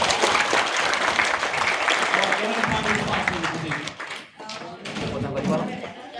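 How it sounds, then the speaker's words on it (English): Audience at a Harvard CS50 pedagogy session claps for one another, a dense, loud wash of many hands that dips briefly near the end then swells again, with talk and shuffling mixed in. "let's clap for each other as we go find our spots"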